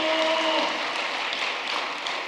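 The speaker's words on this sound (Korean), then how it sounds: "이런 귀한 축복을 내려주신 참 어머니께 감사의 박수를 올려주시기 바랍니다" Audience applause of thanks at a church service, a steady broadband wash of clapping throughout, with a faint held tone early on and no speech.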